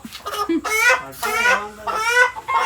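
A rooster clucks close by in a series of strained, throaty calls, three or four bursts in a steady rhythm with short gaps.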